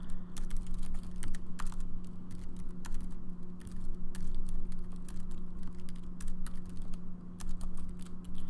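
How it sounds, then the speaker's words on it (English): Fast, steady clicking of keys on a computer keyboard continues throughout over a low constant hum, with no speech. "Typing wonderfully, as you can see."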